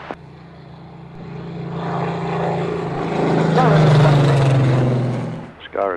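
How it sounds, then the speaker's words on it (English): A Supermarine Spitfire propeller aircraft rolls on the grass runway at Duxford, its engine drone swelling louder and higher mid-clip before easing off, with a voice heard near the start. "Spitfires rolling."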